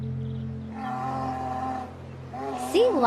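Sea lion giving drawn-out, honking calls, a long moaning bellow followed by a shorter rising cry, close by over soft background music.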